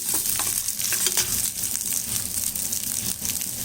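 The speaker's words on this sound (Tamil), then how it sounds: "ஒரு மீடியம் சைஸ் வெங்காயம், நல்லா இதை வதக்கிடலாம்" A medium-sized onion sautés in a clay pot, giving a continuous close sizzle and frying crackle with occasional stirring scrapes and clicks throughout, with no voices.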